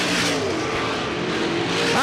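Race cars roar around a dirt speedway oval in 1988, with a loud, continuous layered engine drone and a rising whine near the end, under an announcer's talk.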